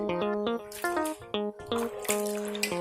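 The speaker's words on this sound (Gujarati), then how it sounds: "આ રીતે આપણે બધી ચિપ્સ ધોઈને તૈયાર કરી લેવાની છે" Potato wafer slices for homemade chips are rinsed in a bowl of water, giving repeated close splashes and drips in a steady rhythm. Clear tonal kitchen clinks or chimes sound alongside.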